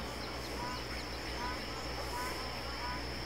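Magpie geese call repeatedly in the hunting game The Hunter Classic, faint honking notes scattered over steady ambient wetland noise.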